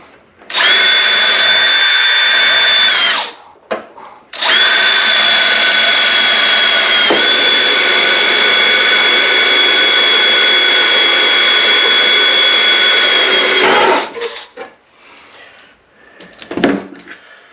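A power drill whines loudly drilling into steel in two long bursts, a short one then a sustained run of about ten seconds, followed by faint handling clatter.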